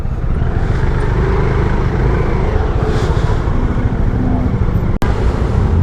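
Heavy road traffic rolls past in Metro Manila during a ride on a Lambretta G350 motorcycle. Cars and motorbikes make a loud, continuous roar of engines and tires close by, with a brief sharp click near the end.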